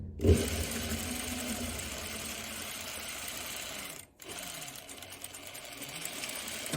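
A sewing machine stitches fabric on the bias around a curve, a steady close whirring hum with a short pause partway through before resuming, fairly quiet.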